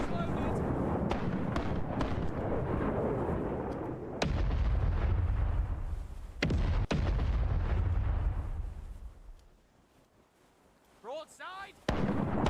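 Cannons on a sailing ship in a video game fire a broadside of loud, deep booms in quick succession. A pause and a quieter stretch follow, then a few more sharp blasts near the end.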